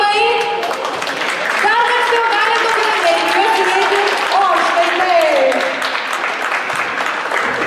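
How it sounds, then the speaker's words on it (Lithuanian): An audience at a festive evening applauds a dance group with steady, dense clapping that runs throughout while a voice speaks over it. "Plojimai, plojimai."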